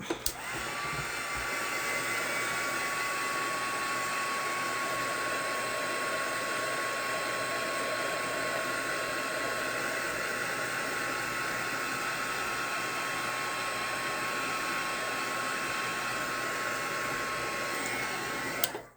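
A hair dryer or heat tool blows steadily over a wet art journal page, a constant loud whirring hiss with a faint whine that runs unbroken for the whole stretch with no talk.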